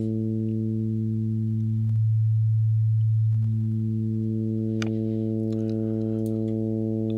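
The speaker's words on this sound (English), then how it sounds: "So it adds harmonics, obviously, to the bass sine wave." Bass sine wave run through the Scrooo plug-in, with its formant spread adding a stack of harmonics above a loud, steady low tone; the upper harmonics briefly drop out midway, then return, with a few faint clicks.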